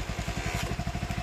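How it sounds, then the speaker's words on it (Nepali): A Hero Honda motorcycle engine runs close by with a fast, even putter and a rough mechanical clatter. The burst is brief and loud, with no speech over it. "एक सर्टमा स्टार्ट हुने बाइक हो"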